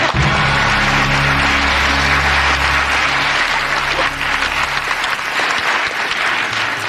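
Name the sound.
studio audience applauding game show answer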